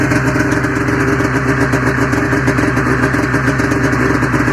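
A 1994 Ski-Doo Formula STX snowmobile engine idles loud and close, a steady buzzing two-stroke putter with rapid even pulses and light clatter, no voices over it.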